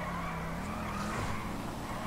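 A car skids in Grand Theft Auto 5, a steady tire squeal over a continuous engine drone, fairly quiet and held for the whole moment with no talking.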